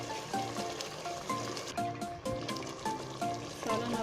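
Okra cooking in a meat gravy of Pakistani bhindi gosht bubbles and sizzles steadily on low heat in a pan, a constant close bubbling texture with no voices.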